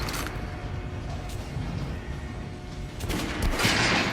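Gunfire from the video game Metro Last Light aimed at an armored dummy, heard as steady rapid shots under a continuous noisy background, with a louder burst near the end.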